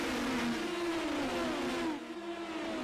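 Indy Pro 2000 race car engines in iRacing at Phoenix, fanning out through the dogleg, a loud, steady high-revving whine with shifting pitch as several cars pass close, dipping slightly toward the end, with no talk.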